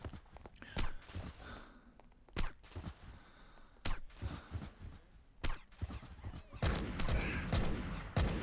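Gunshots in the stealth game Hitman Blood Money: sharp, loud single shots spaced irregularly a second or more apart, with softer movement and ambient sounds between them and a denser noisy stretch near the end.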